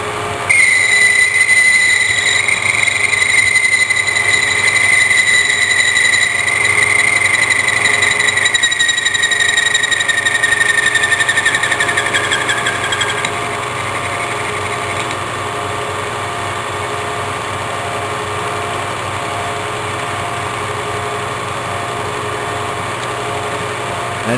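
Handheld power drill running steadily while boring a chair hinge piece in a workshop, a continuous high motor whine that drops slightly in pitch partway through and then keeps droning alone, with no talking.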